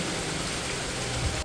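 Heavy rain pours down in a village, a dense, steady hiss of falling water close by that stays loud and unbroken, with no voices.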